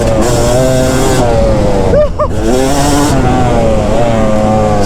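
A Yamaha YZ250 two-stroke dirt bike screams loudly up close on a wide track, its engine revving up and down through gears with a brief dip midway.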